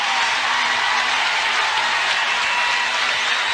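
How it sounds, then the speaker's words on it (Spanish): A large crowd applauding with great fervour, dense, loud sustained clapping that stays even and unbroken throughout. "la gente aplaudiendo con mucho fervor y con mucha fuerza"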